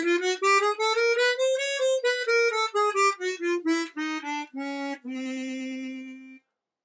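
A chromatic harmonica played with tongue blocking in octaves: a solo run of clear, reedy sustained notes that climbs gently, then steps downward in shorter notes before settling on one long held tone.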